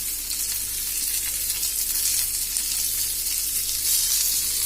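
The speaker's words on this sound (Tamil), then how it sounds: "நல்லா வறுத்துக்கோங்க" Curry leaves, tamarind and cumin frying in oil, giving a dense, continuous sizzle that holds close and steady from start to finish.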